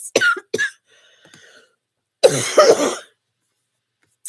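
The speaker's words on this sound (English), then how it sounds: "I've got a cough, guys, so hang on" Two sharp coughs up close, then a short pause and a longer, rougher coughing burst, with quiet gaps in between.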